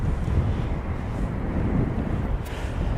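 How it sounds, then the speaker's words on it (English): Steady gusty wind buffeting a microphone outdoors at East Midlands Airport, a loud continuous low rumble with no clear voices. "The wind is picking up again."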